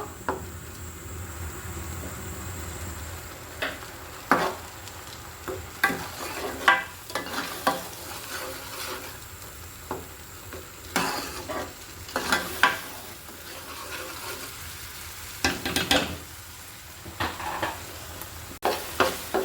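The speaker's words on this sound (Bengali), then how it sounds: "কম আছে কিন্তু আমি ভালো করে কষিয়ে নিব।" Spices fried in oil and stirred in a pan for goat liver curry, a steady low sizzle broken by repeated scraping and clinking of the spatula against the pan, close and fairly quiet.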